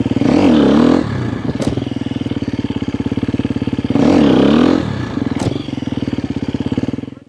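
A dirt bike engine revving hard twice during clutch pop wheelie practice, each rev a loud rising roar that falls back to a rough, pulsing idle between them.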